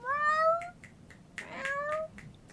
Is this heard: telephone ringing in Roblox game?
no